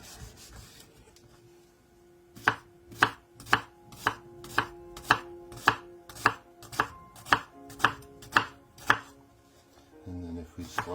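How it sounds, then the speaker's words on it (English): A knife chopping red cabbage on a board, about fourteen crisp, evenly spaced cuts in a steady rhythm, close and clear with no talking. "So let's just chop this first without chopping my fingers."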